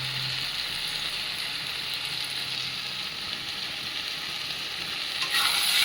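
A banana flower and prawn curry with ghee and garam masala sizzles steadily in a pan while being stirred, a continuous close frying hiss with light scraping, growing slightly louder at the end.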